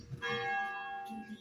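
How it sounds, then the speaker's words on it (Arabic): A Catholic church bell rings close by, one sustained metallic strike with rich overtones that slowly fades, followed by a fainter low hum at the end. "ناقوس تاع الكنيسة انا ساكن حدا الكنيسة"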